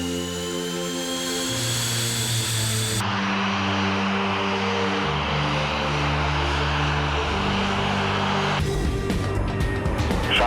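Fighter jets on a military airfield during takeoff and landing practice, a loud sustained turbine roar with shifting engine tones and a whine that rises and falls, one jet swelling past nearby.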